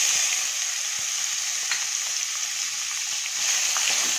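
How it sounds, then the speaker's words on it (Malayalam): Pineapple pieces frying in coconut oil with green chillies for an Onam pineapple pulissery, giving a steady, dense sizzle throughout with a few faint stirring clicks, close and without talk. "ഇനി വെളിച്ചെണ്ണയിൽ കിടന്ന് പൈനാപ്പിൾ നന്നായിട്ട് വാടി വരണം."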